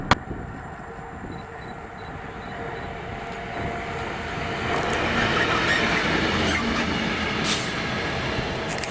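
Direct Rail Services train 0Z52 from Carlisle to Motherwell, hauled by class 66 locomotive 66422, passing at Carluke: a steady rail rumble building to a loud, close pass, with faint wheel squeal and a sharp clatter near the end, no talk.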